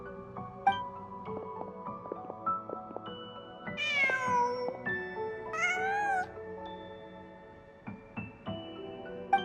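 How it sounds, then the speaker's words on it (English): A cat meows repeatedly in Genshin Impact, a series of clear, fairly close calls including a couple of drawn-out wailing meows, set against soft game music with no talking. "Just a cat."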